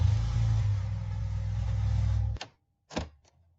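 A Porsche 911 Targa engine runs steadily with a deep, loud rumble, then cuts off abruptly, followed by a short silence and a couple of brief thuds or clicks.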